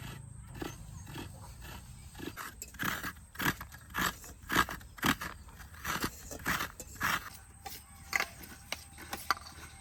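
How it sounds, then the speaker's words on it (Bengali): Fresh coconut flesh is grated by hand for Durga Puja coconut laddoos, a run of quick, rough scraping strokes in a steady rhythm, close up and fairly quiet. "নারকেলটা কুড়িয়ে নিই, তারপর নাড়ু বাঁধা শুরু করা হবে"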